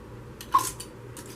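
A hot lid and metal ring being turned down finger tight on a glass canning jar of sweet pickles, giving a few short scraping, clicking twists close by with no talk.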